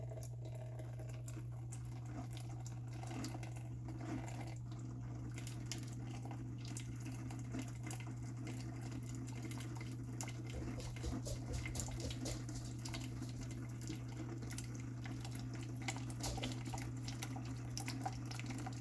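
A Keurig K-Cup Supreme coffee maker runs water through during descaling, giving a faint, steady trickling and gurgling over a constant low hum, with no talking.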